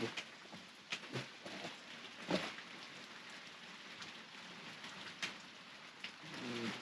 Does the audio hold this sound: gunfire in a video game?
no